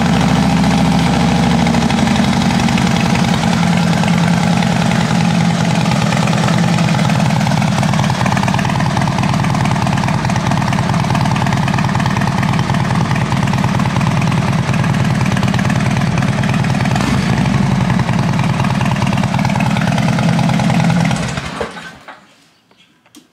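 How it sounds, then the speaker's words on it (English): A motorcycle engine idles steadily and loudly up close for about twenty seconds, with a loud fuel pump whining over the low rumble, then the engine cuts off and the sound dies away. "That fuel pump sounds loud."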